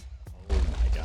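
A cannon blast in a Minecraft faction raid destroying a box, a brief thump followed by a loud, rumbling explosion that fills the second half of the moment.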